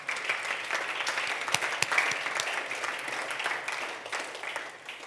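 A room full of people claps steadily, a dense patter of many hands that peaks early and fades toward the end.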